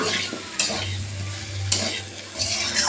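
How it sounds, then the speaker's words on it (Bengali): Soybean chunks and potatoes stir-fried with spices for a soybean curry, giving a steady close sizzle of frying with a few sharp scrapes of a stirring spoon against the pan. "সয়াবিন আর আলু আমি একদম কষা হয়ে নিচ্ছি"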